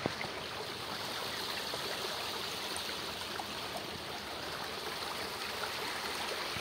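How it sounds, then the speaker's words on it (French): A small waterfall in a stream pours steadily, a constant close rush of water with a faint gurgle and no pause or talk. "Comme cette petite chute là."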